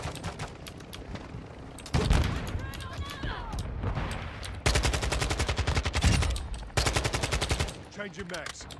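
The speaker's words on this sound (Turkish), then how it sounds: "Çok sekiyor silah. Nereden sıkıyor ya?" Bursts of automatic gunfire in the video game Call of Duty Warzone 2, rapid loud rattling volleys separated by brief pauses, with someone talking in between.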